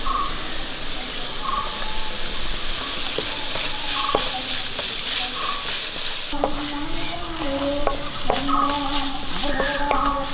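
Onion sautéing in a pan for a tapioca and egg dish, a steady close sizzle with scraping strokes of a stirring spoon throughout.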